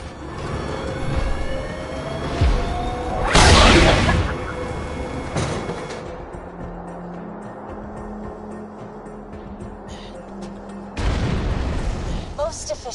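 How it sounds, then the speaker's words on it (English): Cannon fire and explosions in the Borderlands 2 video game: two heavy booming blasts a few seconds apart, then a third loud burst near the end, with game voice dialogue and low rumble between them. "Please fire the cannon again."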